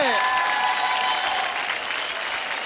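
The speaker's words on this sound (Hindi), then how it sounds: "जोरदार तालियां हो जाए धर्मेश सर और श्याम के लिए" A studio audience at a televised dance competition applauds a performance with loud, dense, continuous clapping that carries through the whole short stretch, heard up close without speech.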